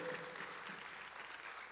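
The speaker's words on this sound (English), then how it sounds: "Give her a round of applause." Audience applause at a summit panel session in Niagara Falls, a soft, even wash of many hands clapping heard from a distance and held at a steady low level for the whole moment.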